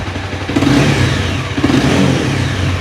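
A 2017 Honda CBR300 ABS on its stock engine and exhaust revs under twisted throttle, a steady mid-pitched drone that swells twice with short throttle blips, close and loud with no talk.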